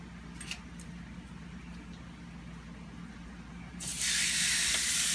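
Steak seasoned with garlic powder sizzles on a George Foreman grill, a low steady hiss that swells into a loud, bright, sustained sizzle near the end.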